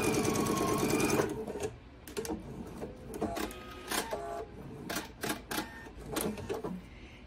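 Home sewing machine running in short stitching bursts while a hem is sewn, a sustained whirring run at first followed by a series of brief separate runs with pauses between, close and clear.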